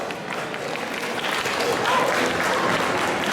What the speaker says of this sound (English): Please give a big round of applause to these volunteers and many more who supported this event